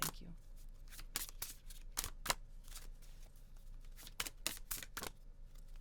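Oracle cards are shuffled for a reading in a series of quick, crisp riffling bursts close by, with a person talking quietly between them.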